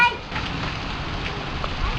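Heavy rain pours down during a thunderstorm, a steady loud broadband hiss of drops on surfaces that fills the whole clip, with wind roar underneath and a faint tonal note near the start.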